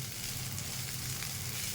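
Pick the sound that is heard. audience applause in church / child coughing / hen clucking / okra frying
okra frying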